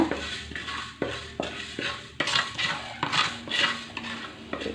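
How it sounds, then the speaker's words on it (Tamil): Fenugreek seeds roasting in a pan as a spoon scrapes through them in regular strokes about once a second, each stroke a gritty rasp over a faint background crackle. "வெந்தயம் சேர்த்துக்கலாம் இதே நல்லா வறுத்து விட்டுருங்க"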